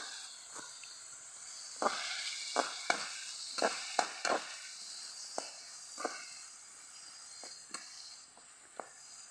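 Onions and chopped chayote frying with salt in a pan give a steady soft hiss broken by scattered sharp crackles and pops, close and fairly quiet, with no talking.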